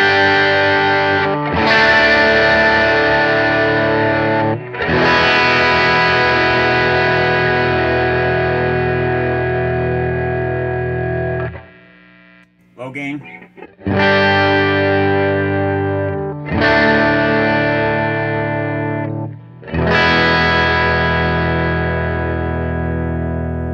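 An electric guitar runs through a Timmy transparent overdrive pedal, ringing out loud sustained chords that decay slowly, with a brief quiet gap of scratchy noise mid-way before the strums resume.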